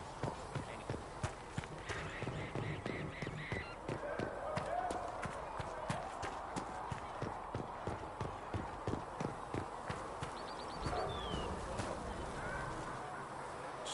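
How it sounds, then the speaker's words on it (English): Hooves of a horse in a video game clip-clop in a steady walking rhythm, close and fairly crisp, over a quiet outdoor ambience with faint chirps. "Master Dennett's horse is in."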